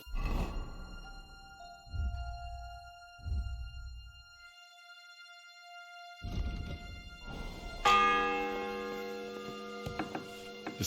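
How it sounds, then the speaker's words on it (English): A church bell in the medieval video game Kingdom Come Deliverance II sounds faintly, with long ringing tones that hang and decay. A brighter cluster of overlapping rings follows later amid quiet background game sounds. "The sixth bell. Half the time is up."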